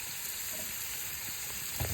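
Pork sizzles in oil and rendered pork fat with shallots, onion and green chili, a steady close frying hiss with a soft stir-like bump near the end.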